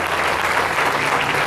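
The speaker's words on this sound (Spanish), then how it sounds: "Denle un fuerte aplauso a Dios" A church congregation claps loudly together, a dense, even wash of applause close and full for a second and a half, with no speech.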